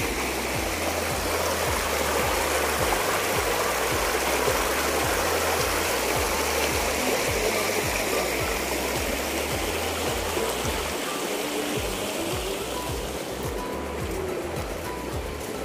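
River water flows steadily in a continuous rushing wash, loud and close, with a low churning rumble underneath and no break throughout.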